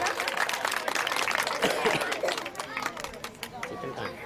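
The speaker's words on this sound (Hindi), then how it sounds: "जोरदार ताली से स्वागत करेंगे विष्णु का" Applause and crowd noise at a Kargil War hero tribute cultural evening, welcoming a patriotic song performer: steady, fairly loud clapping with crowd murmur and talk throughout.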